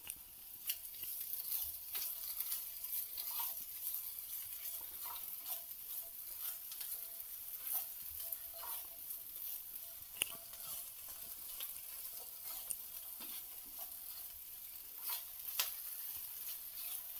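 Finely chopped small potato frying and being stirred in a pan while Maggi rice is cooked, with a steady bright sizzle and occasional scraping clicks throughout, no voices.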